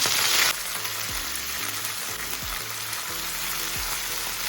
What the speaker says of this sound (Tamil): இதை அப்படியே எண்ணெயில் போட்டு அப்படியே வதக்கிடலாம்